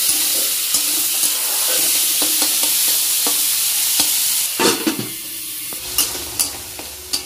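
Mixed leafy greens of spinach, Malabar spinach and amaranth leaves frying with garlic in a pan give a steady loud sizzle, broken by sharp stirring scrapes and clatters that grow more frequent toward the end, with no voices.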